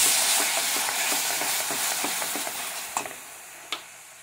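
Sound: cornstarch and water added to hot caramel while stirring

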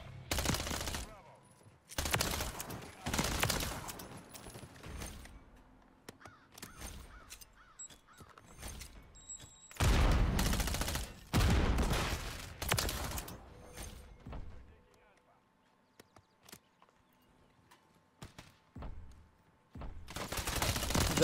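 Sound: gunfire in video game Modern Warfare 3

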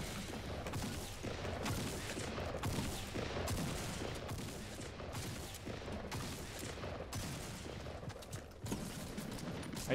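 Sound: gunshots in Fortnite video game

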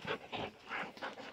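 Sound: dog panting

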